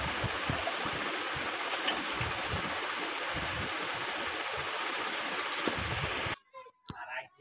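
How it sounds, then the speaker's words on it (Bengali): Milk pours into a pot as a steady, rushing liquid stream for several seconds, close and even, then cuts off abruptly into near quiet with a few soft knocks. "দেখুন, আমি দুধটুকু এখন ঢেলে দিলাম একটি পাতিলে।"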